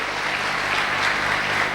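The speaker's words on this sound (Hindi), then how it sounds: "मैं चाहता हूँ कि अनमोल ऐसे माँ बाप के लिए ज़बरदस्त तालियाँ हो जाए" An audience applauds at a motivational speech event, steady crowd clapping throughout at moderate level with no voice over it.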